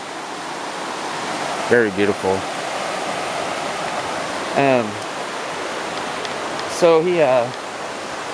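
A river flows steadily beside a forest trail, a broad constant rushing wash that fills the background while someone speaks briefly over it three times.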